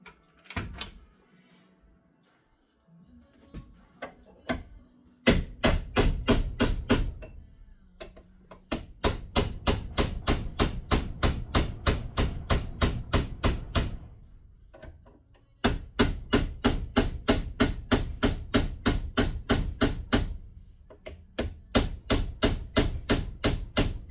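A large cold chisel is struck repeatedly with a hammer, in fast, steady bursts of loud metallic blows separated by short pauses. No one speaks.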